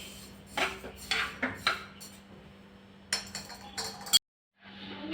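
Roasted sesame seeds are scraped and tipped from a pan onto a plate, giving a run of light metallic clinks and scrapes in short bursts, then a brief silence and a soft rustle.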